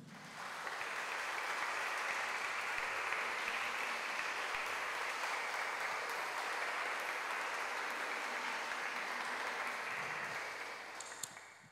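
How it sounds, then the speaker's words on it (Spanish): Sustained applause from a church congregation during a sermon fills the space, a loud, even roar of many clapping hands that holds steady for nearly twelve seconds and then tapers off, with no voices heard. "Dale un fuerte aplauso a tu Señor"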